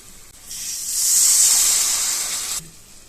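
A loud, steady hiss as a quarter tumbler of water hits sizzling masala for chicken gravy in a hot pan swells up, holds for about two seconds, then cuts off sharply.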